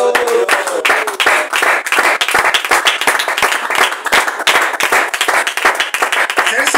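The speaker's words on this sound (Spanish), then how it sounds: "Ofrenda de palmas a Dios." A church congregation claps as an offering to God, a dense, sustained burst of many hands striking at once, loud and close, with faint voices mixed into the steady patter.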